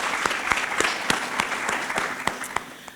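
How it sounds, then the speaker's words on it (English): A room of people gives a lively round of applause at a warehouse celebration event, steady close clapping with a few sharp individual claps standing out in a brisk rhythm. "So please give yourselves a round of applause."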